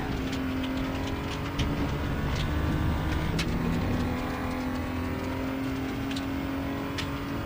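BMW M235i Racing car at Portimao circuit, engine droning steadily under load with gear changes as it brakes and accelerates through turns, loud and continuous onboard with no talk.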